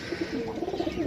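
A pigeon from a stock of birds offered for sale in Jhelum, Pakistan coos close by in soft, rhythmic, repeated pulses, with no talking.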